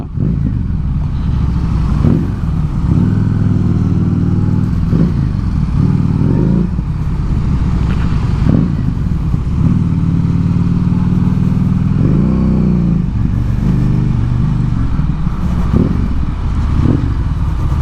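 A Harley-Davidson Street 750 motorcycle rides through heavy traffic, its engine droning loud and close throughout with repeated throttle swells and revs over steady road and wind noise.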